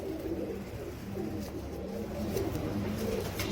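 Teddy pigeons, a breeder pair flock, coo in low repeated rolling calls, close and steady throughout with soft overlapping voices.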